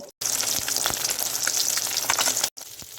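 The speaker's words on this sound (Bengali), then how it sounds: "এদিকে আমি মাছটা ভাজতে অলরেডি দিয়ে দিয়েছি" Two pieces of fish frying in hot oil in a kadai, giving a loud, steady, close crackling sizzle that runs unbroken for several seconds, framed by brief silent cuts at the start and end.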